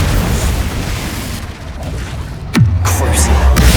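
Confringo blasting curse detonating in the video game Hogwarts Legacy, a single sharp boom that sets off a deep rumbling roar lingering beneath steady background game noise.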